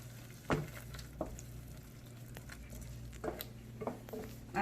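Chana (garbanzo bean) mix cooking over low heat in a pan while being stirred, with a soft, steady sizzle and occasional scraping taps from the spoon against the pan.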